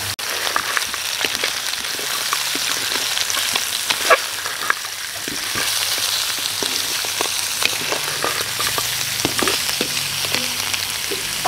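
Meat sautéing with bay leaves in a hot pan for a caldereta stew, a continuous bright sizzle with occasional crackles and stirring clicks, steady and close without talk.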